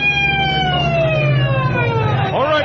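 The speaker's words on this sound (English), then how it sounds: "Let the ambulance through." An ambulance siren wails loudly and close by in an old film scene, its falling tone sweeping down steadily before a new rising cycle begins near the end.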